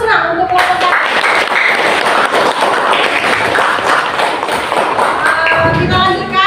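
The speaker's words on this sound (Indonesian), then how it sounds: "Kita beri aplaus lah untuk kelompok satu." A class applauds group one after their presentation: broad, steady clapping from many hands fills the room for several seconds, with taps and thuds mixed in and a voice briefly audible near the end.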